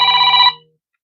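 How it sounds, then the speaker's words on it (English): A phone rings with a single loud electronic tone. It stops abruptly after about half a second and the room is left silent. "Let me mute this phone."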